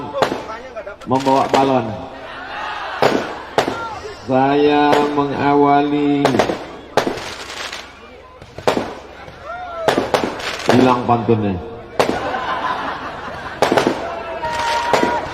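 Firecrackers go off at a Maulid Nabi religious gathering, a series of sharp loud bangs and crackling bursts while someone speaks through a loudspeaker over them.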